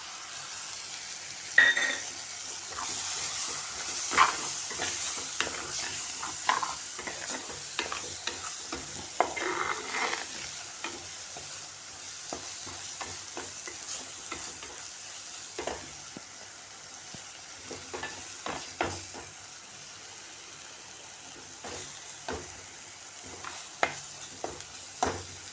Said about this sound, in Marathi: आणि याच्यामध्ये मी हे वाटप घालणार आहे